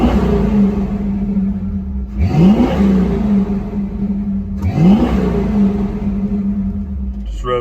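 A 1966 Ford Mustang with a 302 engine idles loud and close, then blips its throttle twice in quick, sharp revs that climb and drop back to a steady rumble.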